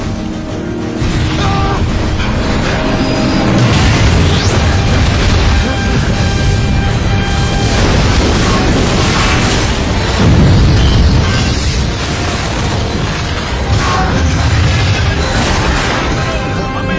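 Explosion in a Hindi-dubbed Hollywood movie, loud rolling booms and crashing debris layered with dense action soundtrack, sustained and close with several heavy swells.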